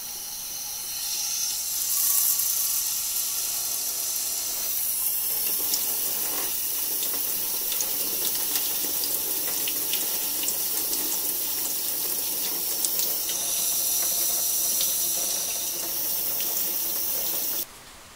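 Water from a garden hose runs steadily and loudly into a 1974 Corvette Stingray engine block, a continuous close hiss and splash that holds for nearly the whole stretch before cutting off abruptly.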